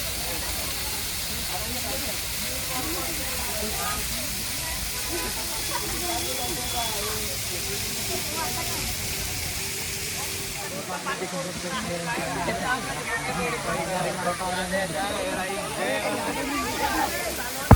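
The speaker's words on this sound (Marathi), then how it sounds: "पाण्याच्या थंड प्रवाहात भिजण्याचा आनंद घेत पर्यटक येथे गर्दी करताना दिसत आहेत." Water pours and rushes at Bhushi Dam in Lonavala during the monsoon, a constant loud hissing roar with a crowd of tourists chattering and calling underneath, the voices growing busier toward the end.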